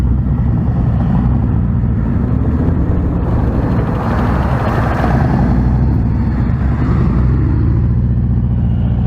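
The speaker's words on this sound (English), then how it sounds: "Nice lean in that U-turn. Gotta lean the bike." A motorcycle engine hums steadily through a lean U-turn during motor officer training, a loud, close, low rumble that holds even throughout.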